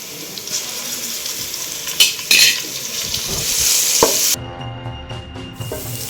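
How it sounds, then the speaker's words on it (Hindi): Close, steady sizzling of ginger-garlic paste frying in a hot pan, with a spoon stirring and scraping against the metal, then quieter sizzle after a clunk. "अब इसके अंदर 1 चम्मच जो है वो अदरक लहसुन का पेस्ट डाल के फ्राई"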